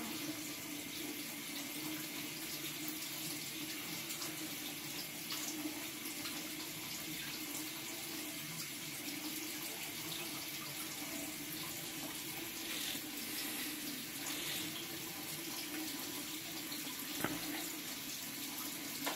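A sink tap runs for hand washing in a biology lab, a steady, even hiss of flowing water that stays fairly quiet and unbroken for nearly twenty seconds.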